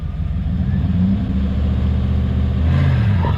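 Car engine idling steadily, then rising in pitch as the car launches gently at low RPM, loud and close throughout with no talk.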